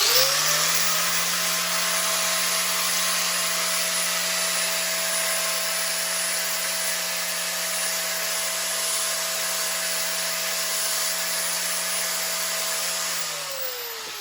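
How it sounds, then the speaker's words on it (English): A power sander works the sharp edges of a small metal foot pedal, giving a steady, loud whirring drone that holds level throughout and winds down at the end. "I take them sharp edges and I round them off with the sander"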